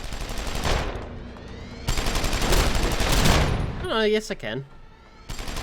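Dense, close automatic gunfire from Deus Ex: Human Revolution in two long rattling volleys. Someone speaks briefly over a short quieter gap before the firing starts again.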